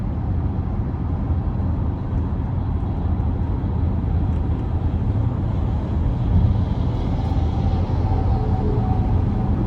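A 2025 Cadillac XT6 Premium Luxury AWD with a V6 engine driving, a steady low engine drone and road rumble heard from inside the cabin, continuous and fairly loud with no talking.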